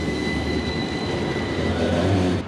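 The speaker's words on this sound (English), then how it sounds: "I'm just going to let the Seville tram go by." A battery electric tram in Seville rolls past close by, a loud steady rumble of wheels on rail with a faint high whine, easing off at the end.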